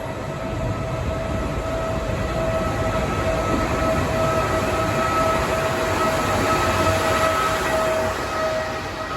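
Trenitalia regional train running from Pisa to Florence, a continuous loud interior rumble of wheels on track with a steady high hum and whine throughout, no voices.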